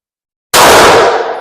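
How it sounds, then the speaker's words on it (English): A single pistol shot fired at a target five yards away: one loud, sharp crack after half a second of silence, ringing out and decaying over the remaining second. "So I'm going to run this out to 5 yards."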